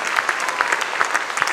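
An audience applauds after a choir concert, a dense, steady patter of many clapping hands heard close and alone.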